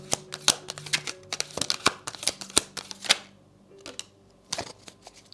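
Tarot cards being shuffled by hand, quick crisp riffling bursts in an irregular rhythm, close and fairly clear, with a brief lull before a final flurry.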